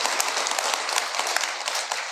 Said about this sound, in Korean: 이럴 때 박수를 쳐야 되는데